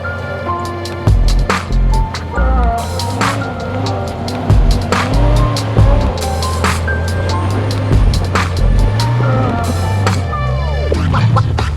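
A four-wheel-drive vehicle on a Victorian high country track, its engine droning steadily with gear changes and varying revs, close and loud, with bumps and creaks from the rough ground throughout.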